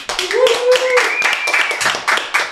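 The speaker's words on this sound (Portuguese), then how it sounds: "recebam com muita honra e com forte aplauso" An audience claps to welcome a guest speaker on stage at a Brazilian podcast event, with steady close clapping running throughout under tonal voices or music.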